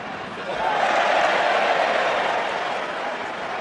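Rugby stadium crowd at a Wales versus South Africa test match roaring and cheering after a try, a broad sustained swell that rises quickly and holds loud with scattered applause.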